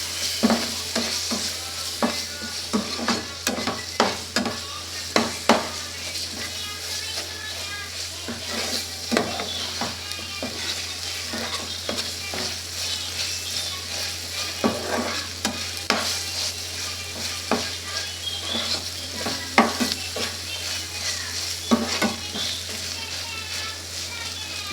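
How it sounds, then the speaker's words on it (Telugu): Ginger paste frying in a pan for chicken fry while a utensil stirs it, giving a steady close sizzle broken by frequent scraping strokes of uneven rhythm; a low hum sits underneath, and quiet talk may pass in places. "అల్లం పేస్ట్ వేసుకోవాలి. సో ఇది కూడా బాగా మిక్స్ చేసి ఈ పచ్చివాసన అంతా పోయేంత వరకు కూడా మిక్స్ చేసుకోవాలి"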